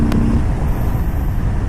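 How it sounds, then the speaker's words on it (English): A 2018 Harley-Davidson Sport Glide motorcycle pulls hard in third gear, a loud, steady, close engine roar with deep low rumble over a brief burst. "Let's open her up, drop the gear down into third, open her up"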